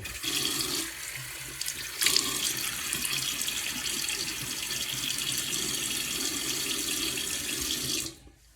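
Tap water runs steadily into a bathroom sink as a face is wetted before shaving, a close, continuous splashing rush with brief splashes before it shuts off near the end.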